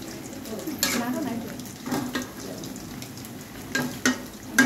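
Noodles fry in a pan while spices are added, giving a soft continuous sizzle with a few brief stirring scrapes and clinks; a voice talks over it.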